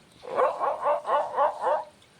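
A voice imitates a dog, giving six quick rhythmic barking yelps in a row, fairly close and clear.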